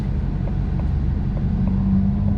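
A steady, low engine rumble from a car with a 3.7-liter V6 on the move, constant and fairly loud, with no talking.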